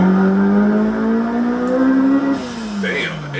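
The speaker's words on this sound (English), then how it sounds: "Listen to that exhaust." A Honda Civic exhaust during a hard revving acceleration pull, a loud rising engine tone climbing steadily before a gear change and a brief lift.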